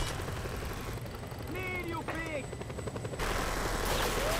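Gunfire aimed at the player in the Just Cause 2 video game rattles continuously over a steady helicopter-like roar, with a voice talking through the middle.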